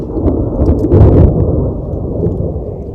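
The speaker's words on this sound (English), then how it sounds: "the storm is blowing in" Thunderstorm rolling in over a mountain trail, a continuous loud low rumble of thunder with a swelling peak near the middle and steady broadband roar of wind and rain throughout.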